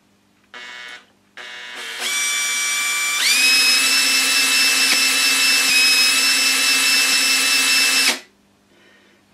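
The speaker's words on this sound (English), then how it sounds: "So I connect my electric drill to the shaft." An electric drill spins a shaft in steady, loud whining bursts: a short spin-up, a pause, then a sustained high tone lasting about six seconds before it cuts off, with no talk.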